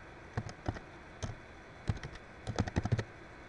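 Quiet, close keystrokes on a computer keyboard come in short bursts of light clicks, with a brief pause before a quicker flurry of taps.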